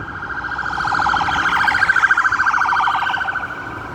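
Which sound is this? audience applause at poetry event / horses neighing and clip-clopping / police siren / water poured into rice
police siren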